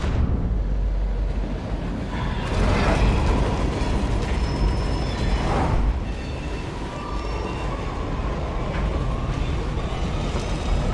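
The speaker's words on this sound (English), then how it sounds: "No way, it's another train." A train approaches in the video game Eternights, a steady heavy rumble and clatter of rails with swelling whooshes and faint high tones, continuous and loud throughout.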